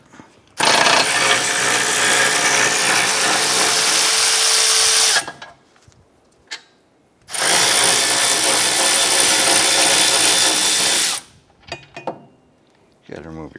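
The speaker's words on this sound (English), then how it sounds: "Go ahead and loosen and remove our caliper bracket bolts." Honda Pilot rear brake caliper bracket bolts being loosened with a power tool, two long loud whirring and grinding bursts separated by a pause, followed by short clicks and ratcheting handling sounds, close up.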